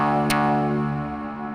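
A synthesizer oscillator from a Local Florist module patched into a delay holds a steady buzzing, harmonically rich tone with one sharp click near the start, then slowly fades a little. No one speaks.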